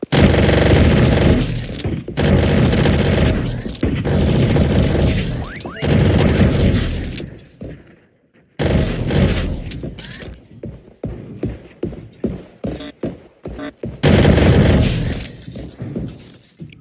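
Loud video game gunfire and grenade launcher blasts in close bursts with booming explosions, brief pauses between volleys and a rapid string of single shots toward the end.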